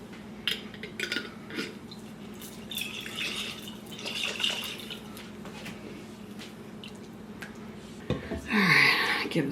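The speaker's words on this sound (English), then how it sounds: "we're going to rinse the jars with a little water" Jars of Alfredo sauce are rinsed with a little tap water in a kitchen, with scattered short splashes, drips and clinks of glass, then a louder burst of sloshing near the end.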